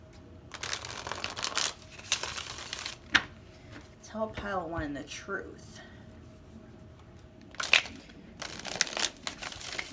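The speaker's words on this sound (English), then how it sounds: "I'm going to shuffle one more time" Tarot cards riffled and shuffled by hand during a pick-a-card love reading, papery bursts coming in several rounds, close and fairly loud, with someone speaking between them.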